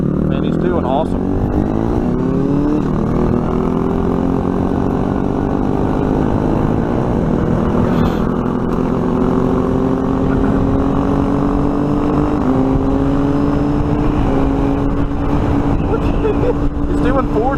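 A motorcycle engine drones steadily in rush hour traffic at around 40, its pitch climbing and stepping through gear changes while the rider keeps the throttle on, with someone talking over it throughout.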